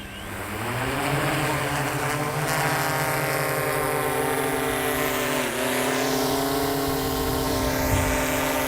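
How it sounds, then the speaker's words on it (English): A DJI Matrice 200 series drone lifts off and flies, its steady loud rotor whine holding a layered harmonic tone throughout, with a brief pitch dip midway and no voices. "let's go ahead and get this aircraft up in the air"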